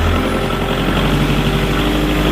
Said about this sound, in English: I'm going to go ahead and bump my RPMs up.